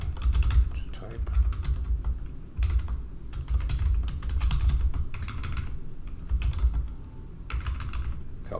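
Rapid typing on a computer keyboard, close clicking keystrokes coming in bursts with short pauses between them, over a low steady background hum.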